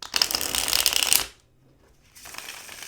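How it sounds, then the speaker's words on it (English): A deck of cards being shuffled over and over, a dense, loud riffling burst for over a second, then a pause and a quieter second round of shuffling starting up. "She just shuffles and she keeps shuffling."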